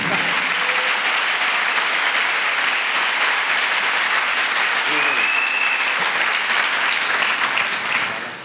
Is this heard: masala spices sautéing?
no